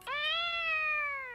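A single cat meow from the animated film Kiki's Delivery Service, clear and close, rising then slowly falling over about a second.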